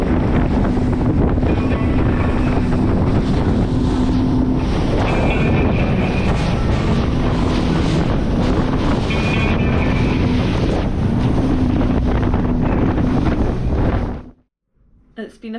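Steady engine drone of a boat moving across water off Split, Croatia, with wind buffeting the microphone throughout before it cuts out near the end.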